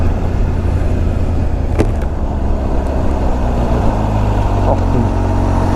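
Road traffic surrounds a supercharged Kawasaki H2 SX motorcycle on the move, a steady, loud blend of engine drone and wind rush with passing vehicles and brief sharp clicks layered over it.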